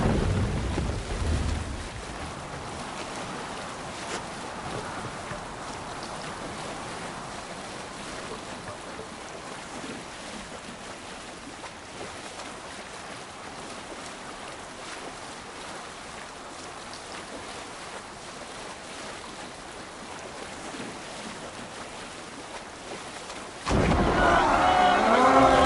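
A stormy sea washes and roars around a sailing ship in Assassin's Creed Valhalla, with steady wind and surf throughout and a louder splash of spray near the end, under shouting voices.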